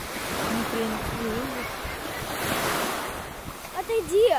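Winter sea waves surge and break on the shore at Anapa on the Black Sea, a continuous wash of surf mixed with wind buffeting the microphone, with a voice rising briefly near the end.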